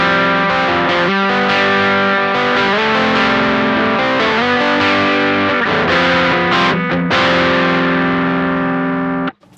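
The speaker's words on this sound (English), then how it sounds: "We're in the fuzz mode, so even with the honey control on minimum," Electric guitar played through a Beetronics Nectar pedal in fuzz mode with the honey control at minimum, giving a thick, sustained, distorted tone with strummed chords ringing loudly and continuously until a sudden cutoff at the end.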